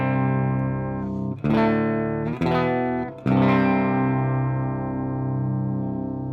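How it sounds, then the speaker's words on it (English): Electric guitar played into the normal channel of a Marshall amp with the Metal Zone pedal disengaged, ringing out a few sustained, lightly driven chords struck in sequence, each left to decay. "With the Metal Zone disengaged, it sounds something like this"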